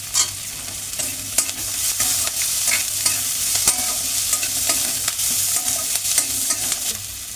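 Chopped onion and ginger fry in a pan with a dense, steady sizzle, broken by frequent sharp clicks and scrapes of a spoon stirring throughout, close and fairly loud with no voices.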